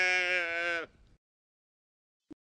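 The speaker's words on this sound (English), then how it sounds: "Sheep." A sheep lets out a single short, wavering bleat, close and clear, followed by silence and a faint brief click.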